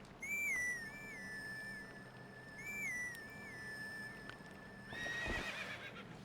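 Epona, Link's horse in the Zelda: Twilight Princess game, whinnies twice in long rising-and-falling calls over a soft ambient bed, with a brief rustling burst near the end.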